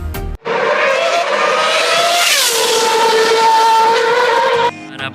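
Formula Grand Prix race cars scream past on the closed streets of Monte Carlo, a loud, continuous high-pitched engine roar with a pitch shift as one car passes close, then fading slightly before ending abruptly.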